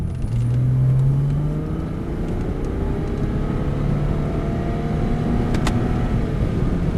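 A Porsche Boxster accelerates on a track, its engine holding a steady loud drone with rising tones, close and continuous throughout.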